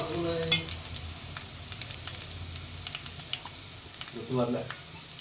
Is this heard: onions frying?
yes